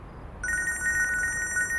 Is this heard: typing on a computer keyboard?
no